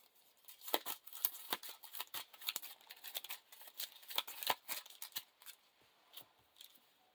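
Playing cards from a Lord of the Rings living card game are shuffled into a deck, giving quiet, close crisp riffling flicks and ticks in irregular bursts, with no voices.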